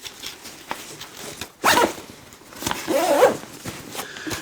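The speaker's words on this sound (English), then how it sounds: "it does have an additional zippered pocket at the very, very back right here" A zipper on a North Face Surge backpack's back pocket is pulled in two quick rasping strokes, close and clear, with handling rustle around them.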